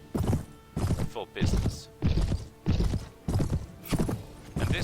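Horses galloping in the Mount & Blade video game, the Prophesy of Pendor mod, with steady bursts of heavy clip-clop hoofbeats repeating about twice a second, loud and close, and a faint voice underneath.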